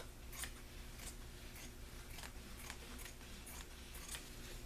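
Scissors snip through fabric for a journal cover in a regular series of crisp cuts, roughly one every half second, faint and close against a low background hum.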